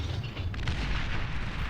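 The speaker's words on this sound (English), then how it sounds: "that explosion taking out some of Dark Green's base as well" A large explosion in the real-time strategy game Beyond All Reason hits part of an enemy base, a loud rolling rumble of deep booms and crackle that fills the whole moment with no talk.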